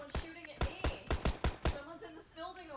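Gunfire in the video game PUBG, a burst of about seven sharp, evenly spaced shots, fairly close and moderately loud, with a voice talking afterward.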